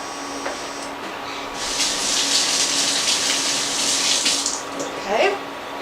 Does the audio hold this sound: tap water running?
yes